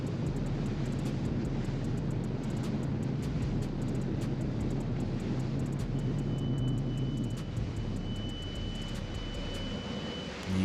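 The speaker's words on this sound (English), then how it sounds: "that's my alarm that the engine is overheating" Aboard a boat cruising back at about 33 mph while striped bass fishing, an engine overheating alarm sounds as a thin steady beep partway through, faint beneath the loud, constant roar of the motor and water.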